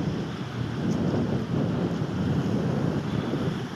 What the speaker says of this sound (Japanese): 波がすごいジャバーンってくるんですよ